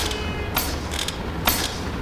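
A door creaking open in the VR game Animal Company, heard as a series of short, loud creaks and mechanical squeaks in bursts, with no talking.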